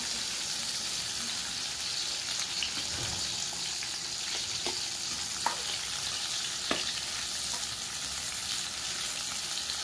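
Onion frying in a pan gives a steady broadband sizzle throughout, with a few faint clicks of utensils; no one speaks.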